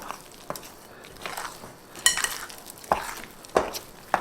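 Stirring chocolate chips into thick keto chocolate protein muffin batter in a bowl, with a few soft scrapes and sharper utensil taps against the bowl spaced irregularly, close and fairly quiet.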